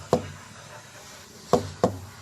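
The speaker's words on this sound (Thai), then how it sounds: "นี่ก็คือวิธีตรวจเช็คยางนะคะ ให้ฟังเสียงเอาแล้วแนะนำให้ใช้เหล็กนะคะ" Three dull metallic knocks from a steel bar on a firm, inflated truck tire, one then two close together, over faint background noise.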